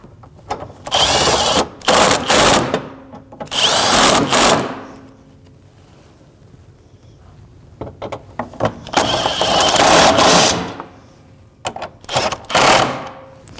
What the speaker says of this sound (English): 10mm socket, snug those up.